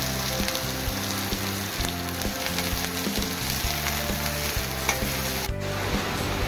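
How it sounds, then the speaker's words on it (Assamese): Chopped onions hit hot oil with blackened fenugreek seeds for a fish curry, sizzling steadily with stirring scrapes over a continuous tonal backing. "এতিয়া ইয়াতে দিম চপ কৰি থোৱা পিঁয়াজখিনি"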